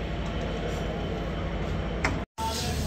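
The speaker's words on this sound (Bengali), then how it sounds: "ট্রেনটি প্রবেশ করলো তার 3 নম্বর যাত্রাবিরতি স্টেশন মাদনগরে" A Banglabandha Express passenger train pulling into Madhnagar railway station at night, a steady loud rumble of rail cars with brief squeaks, continuous for about two seconds before a short cut and resumption.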